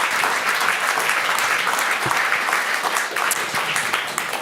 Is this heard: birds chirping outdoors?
no